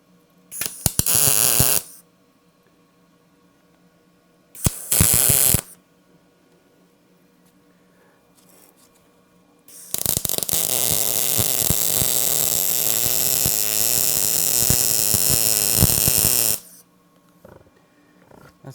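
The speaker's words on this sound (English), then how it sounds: "That's my sweet welding job" Pipe welding joins 3/4 inch pipe to 1 inch pipe for a forge burner. Two short buzzing bursts come first, then a long continuous crackling weld of about six seconds, close up, with a faint hum in the gaps.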